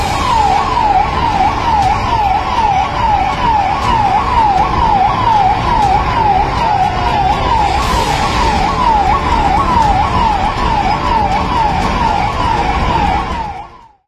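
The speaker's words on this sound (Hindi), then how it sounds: "पहले आप वह वीडियो देखें जिसमें अमित शाह का काफिला गुजर रहा है और एम्बुलेंस फंसा हुआ है।" An ambulance siren sounds while the ambulance is stuck on a road as a motorcade passes. It is a loud, close wail rising and falling in a fast, even cycle for about thirteen seconds, then cuts off abruptly.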